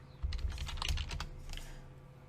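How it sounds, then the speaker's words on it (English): Someone types a web address on a computer keyboard, producing a quick, close run of soft key taps in an irregular rhythm over a low background hum. "All I need to do now is simply type in teams.microsoft.com"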